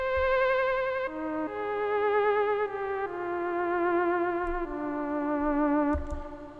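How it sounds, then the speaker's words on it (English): A wavering, vibrato-laden theremin-style synth lead plays a slow, dark melody of sustained notes over a soft low beat. "I also just put a lead in there, a little theremin lead"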